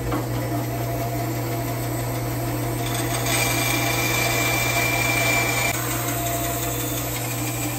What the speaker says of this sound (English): And I'm going to cut it over on the bandsaw.